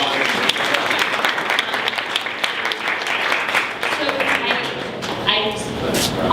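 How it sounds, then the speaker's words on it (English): Steady, dense applause from a live audience at a lightning talk event fills the room, with a voice faintly present underneath. "Big round of applause."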